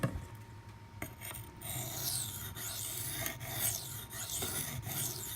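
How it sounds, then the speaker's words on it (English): A Spyderco Manix 2 knife with a Maxamet steel blade is drawn across a 400-grit CBN waterstone in repeated light finishing passes, each stroke a soft, close raspy scrape with brief pauses between. "I'm going to do some finishing passes, then we're going to strop and test the edge on the 400 grit."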